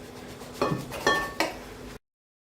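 A utensil cuts pastry in a baking tray, slicing around the edges down to the tray bottom: three distinct metallic scrapes and clinks close by, each followed by a short ringing tail, then silence.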